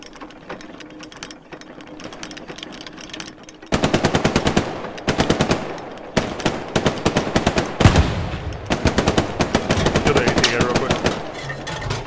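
Gunfire in the World War II video game Hell Let Loose, with long rapid machine-gun bursts broken by short pauses over a low engine hum.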